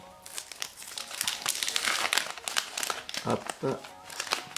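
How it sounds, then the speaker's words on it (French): Panini Harry Potter sticker packets being torn open, with close, steady crinkling of the foil wrappers and sharp tearing bursts while someone talks over them. "il nous reste 3 pochettes à ouvrir, c'est parti."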